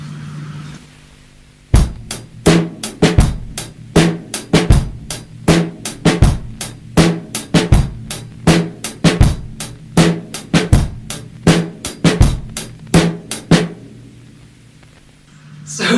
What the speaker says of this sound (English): So the first groove, this one has the snare on the A of 2.